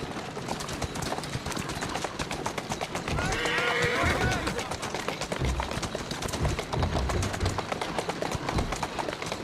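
Rhythmic clip-clop of horse hooves at a steady trot in Assassin's Creed Syndicate runs throughout, with a brief whinny and a voice talking over it.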